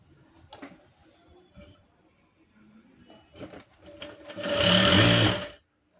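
Sewing machine stitching a two-fold blouse hem, running in one loud continuous burst near the end after quieter handling and fabric sounds.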